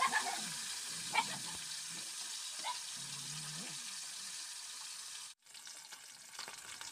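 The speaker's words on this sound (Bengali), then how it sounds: "মাছটাকে এরকমভাবে উল্টে পাল্টে লাল লাল করে কিন্তু ভেজে নিতে হবে।" Pieces of river fish (ari) sizzling in hot oil as they are turned over, with a steady crackling fry, occasional clinks of a utensil, and a brief cut near the end before the sizzle resumes.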